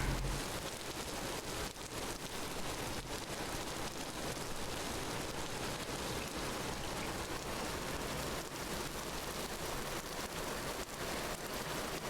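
Steady heavy downpour in the survival game Vintage Story, a dense continuous hiss of rain pattering on surfaces, evenly loud throughout with no voices.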